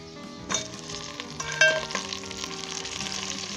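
Chicken pieces frying in a pan with golden onions and garlic, plus cumin, turmeric, red chilli and salt: a close, steady sizzle with a few sharp clatters of stirring.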